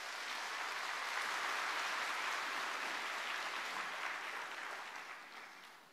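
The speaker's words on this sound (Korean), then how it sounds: "귀한 목사님 큰 박수로 모시겠습니다." A church congregation at Sunday worship applauds to welcome a visiting pastor, dense sustained clapping that swells early, holds, then tapers off near the end.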